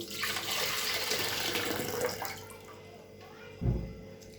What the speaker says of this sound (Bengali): এবার দেব ঠান্ডা পানি এই যে বরফ পানি